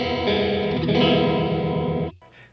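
Electric guitar through a Free The Tone Tri Avatar TA-2H with its modulation speed at maximum: a close chord wobbles rapidly for about two seconds, then cuts off to a faint ring.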